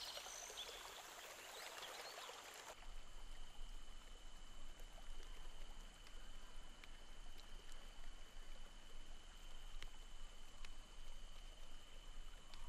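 Water from a shallow stream splashing and trickling steadily as someone wades across it outdoors, a continuous close watery wash that steps up abruptly in level and carries on without talk.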